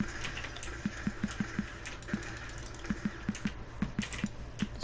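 Quick, light clicks of a computer keyboard being typed on during an eFootball 2022 game session, in short irregular bursts, fairly quiet and close.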